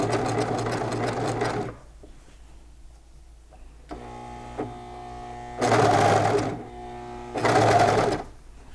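Sewing machine stitching pajama pant fabric along a tricky inner curve, running in three bursts: a long steady whir, a pause with faint handling, then a slower stretch and two short loud runs close to the mic.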